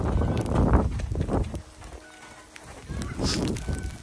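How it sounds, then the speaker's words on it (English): A chicken squawks and clucks nearby on a farm during an ice storm, in a few loud, harsh bursts, with a quieter stretch in between. "Oh, there's my chicken."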